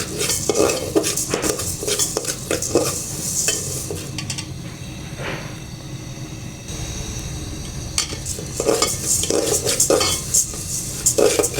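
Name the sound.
lentils being stirred while dry-frying in a pan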